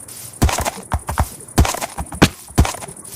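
Hooves clip-clop from infected horses in a Minecraft-style apocalyptic survival game, in short clustered bursts of hoof strikes repeating about every second, fairly close and loud, with no talk over them.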